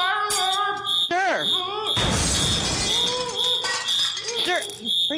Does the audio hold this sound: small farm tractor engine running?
no